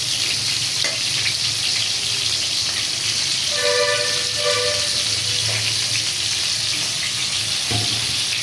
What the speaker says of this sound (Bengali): বেগুন ভাজা বসাইলাম।